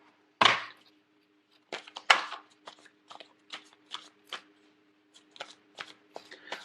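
Tarot cards shuffled by hand, a sharp riffle followed by a run of quick, crisp slaps and flicks in uneven rhythm, close and clear with no talk.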